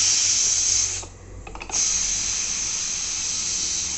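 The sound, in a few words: pressure cooker releasing steam after cooking carrot halwa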